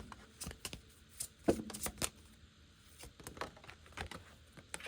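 Someone shuffles an Oracle Chakra tarot deck up close, making soft, quick bursts of card flutter and light slaps in an uneven rhythm, quiet and with no talking.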